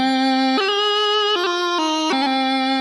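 A plastic bagpipe practice chanter plays a short tune, clear reedy notes stepping between pitches, close and alone with no talking.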